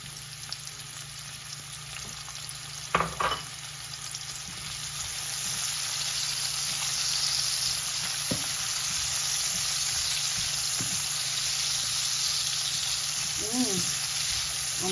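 Onion frying in a pan, a steady, even sizzle that swells after a few seconds and holds to the end, with a couple of brief clunks near the start.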